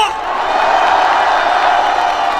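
A large outdoor rally crowd supporting President Yoon Suk Yeol roars, shouts and cheers in a loud, continuous mass of voices, with scattered whoops and a few claps inside the din.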